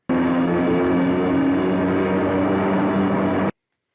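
Steady, loud drone of an airplane in flight from You Only Live Twice, continuous and unbroken for about three and a half seconds before cutting off abruptly, with no voices.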